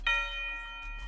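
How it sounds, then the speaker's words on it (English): A single tubular bell struck in a music production, a clear metallic hit with bright sustained overtones ringing out and slowly decaying over about a second, with a low hum underneath and no voices. "you gotta have a tubular bell"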